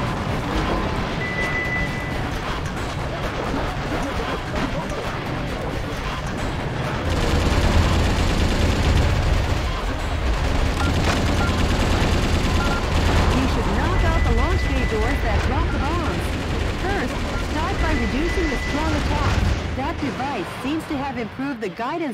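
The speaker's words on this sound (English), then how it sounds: "Okay, Mr. President, let's shoot them down." Rapid bursts of gunfire and heavy explosions from Metal Wolf Chaos XD as enemies are shot down, dense and continuous, with game voices talking over the shooting.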